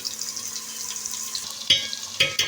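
Onions with cumin sauté gently in hot oil, a low steady sizzle near the pan, ending with a few sharper stirring clatters of a spoon.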